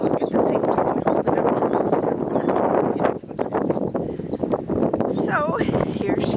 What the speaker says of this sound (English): Ooh, it is windy.